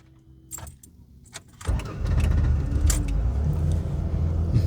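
A 2007 Ford Taurus with a failing starter cranks its engine, with a rough, close rumbling grind that rises after a few faint metallic clicks and rattles and continues steadily to the end.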